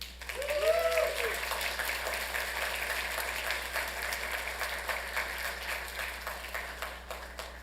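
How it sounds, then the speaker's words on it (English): Steady applause from people at a Santa Ana city council meeting, moderate and fairly distant, holding level for several seconds, with a brief voice near the start. "Let's please give a round of applause for them."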